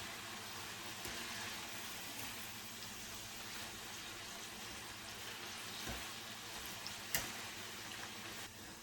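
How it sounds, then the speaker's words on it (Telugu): Jowar flour and onion pakodas deep frying in hot oil over a medium flame, a steady dense sizzle filling the whole stretch with faint bubbling crackle and a few brief clinks near the end, no talking. "మనం మంటను మీడియం ఫ్లేమ్లో పెట్టుకొని వీటిని కాల్చుకోవాలి, డీప్ ఫ్రై చేసుకోవాలి"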